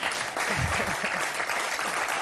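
Studio audience clapping on a French football talk show, a dense short burst of applause heard alone.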